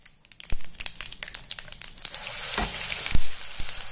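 Mango and dry masala paste frying in a hot pan, crackling and sizzling steadily close by, with a few sharper pops and spatters breaking through the hiss.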